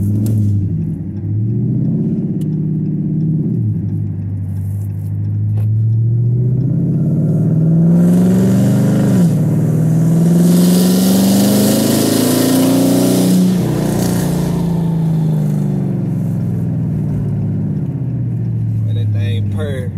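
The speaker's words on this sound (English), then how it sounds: "JBA long tube headers, catless mid pipes, mid muffler delete, no resonators, 5-inch tips. True straight pipe." Car with JBA long tube headers, catless mid pipes, mid muffler delete, no resonators and 5-inch tips, a true straight pipe, pulling away from a green light: loud, close, raw exhaust roar climbing through gears with rising pitch sweeps, sustained throughout.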